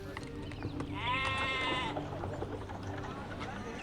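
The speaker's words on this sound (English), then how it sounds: "Let's add some sheep throughout this area." A sheep bleats once in a wavering, drawn-out call over a busy background of city-building game sounds and low music, in Zeus: Master of Olympus.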